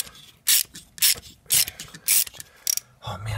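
Socket wrench ratcheting while installing a Heli-Coil thread insert, with a poorly fitting socket: several loud, close bursts of rapid clicking in an uneven rhythm, followed by a low thud.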